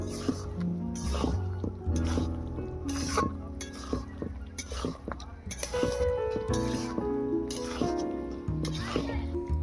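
Fried soya chunks stirred and mixed in a pan, with repeated close scraping and squelching strokes in a steady rhythm.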